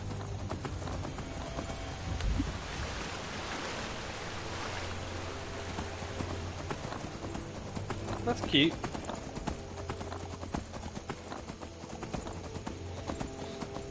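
Steady rhythmic horse hoofbeats clip-clop through the whole stretch over ambient Skyrim game noise, with a brief snort and a voice speaking once.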